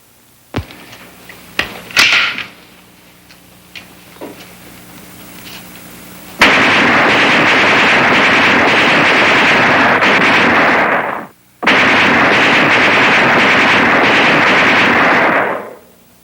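A gun firing: a few sharp, scattered cracks at first, then two long, loud, unbroken bursts of fire separated by a short gap.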